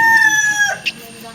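Chickens on a home poultry farm: a rooster's crow trails off into a sharp cluck, close and fairly loud, with a voice speaking faintly in the background.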